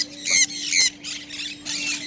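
A pineapple conure at a bird market gives harsh, piercing squawks in two loud bursts, followed by quieter chattering calls, all close by.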